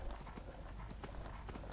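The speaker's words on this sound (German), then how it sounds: "Hallo, du sollst rennen, Pferd." A horse in Skyrim trots over the ground in quick, even clip-clop hoofbeats that are soft and somewhat distant, under a steady background hiss.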